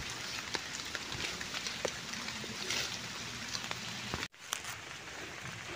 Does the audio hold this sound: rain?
yes